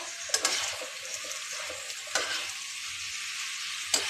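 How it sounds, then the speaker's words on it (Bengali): Fried pointed gourd sizzles in a hot pan, a steady hiss broken by a few sharp scrapes of stirring. "পটল ভাজাটা দিয়ে দিলাম, দিয়ে আর একটু ভালো করে কষিয়ে নেব।"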